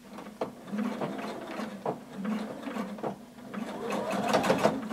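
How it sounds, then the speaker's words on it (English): A home sewing machine hums and whirs close up as it stitches a tunic seam at five-eighths of an inch, running in short bursts with brief pauses and a faster, louder run at the end. "Now using 5/8 of an inch seam allowance, we're going to start sewing all the way around."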